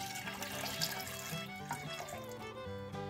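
Water runs steadily from a tap, filling a pot of beef for boiling, a soft continuous splashing and trickling with faint clinks, fairly quiet and close.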